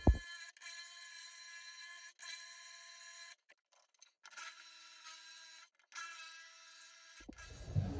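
Power drill boring holes into a wall for radiator brackets, a steady whining run broken by several short stops and restarts, close and loud with brief silences between bursts.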